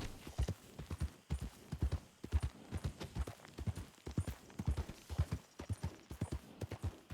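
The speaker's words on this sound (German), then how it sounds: "Ein Pferd." Rhythmic clip-clop of horse hooves in the video game Red Dead Redemption 2 at a steady walking pace, clear and fairly close, with no voices.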